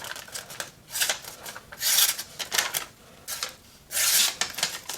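Bestech Cricket Ququ knife slicing through material: short scraping, rasping strokes close up, coming in irregular bursts with pauses between cuts.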